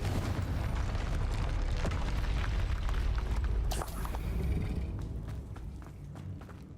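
Spell blasts in Hogwarts Legacy burst and boom one after another over a rumbling, busy battle bed with scattered pops and crackles, loud and close throughout.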